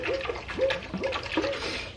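A glass jar of fermenting garlic cloves in water is shaken, giving repeated sloshing, gurgling splashes in a steady rhythm of about four pulses, close and moderately loud.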